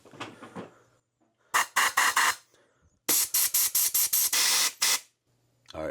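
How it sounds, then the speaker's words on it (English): Short bursts of compressed air blasting through the passages of a 2003 Honda Shadow Spirit VT750 carburetor, loud sharp hisses in a quick irregular series, with a quieter stretch of faint noise between them. "I'm going to use my compressed air. I'm going to blow through every single passage on this thing to make sure it's super duper clean."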